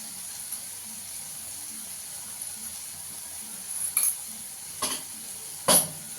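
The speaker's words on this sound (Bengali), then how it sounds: "মশলাটাকে ভালো করে কষিয়ে নেব।" Ground cumin and coriander fry in a pan. A faint, steady sizzling hiss sits under three or four short scraping stirs of a spoon against the pan, the last one the loudest, with no one speaking.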